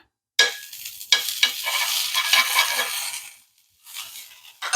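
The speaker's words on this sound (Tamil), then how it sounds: "இப்போ பாருங்கள் தோசைக்கல் சூடாயிட்ருக்கு அதில் கொஞ்சம் பட்டரை நம்ம போட்டுக்கலாம்" Butter sizzling and spattering on a hot dosa tawa, a broadband crackle starting abruptly and running steadily for a few seconds, fading briefly, then resuming, close and fairly loud with no talk.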